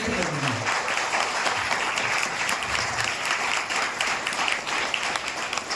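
A large audience bursts into loud, sustained applause, dense continuous clapping filling the room, with crowd noise and a voice underneath.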